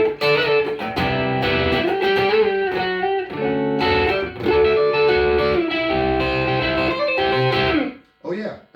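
Electric guitar in split coil mode plays a melodic line with sustained notes and an effects-laden, slightly driven tone, loud and continuous before stopping abruptly near the end.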